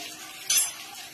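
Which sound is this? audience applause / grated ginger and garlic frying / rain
grated ginger and garlic frying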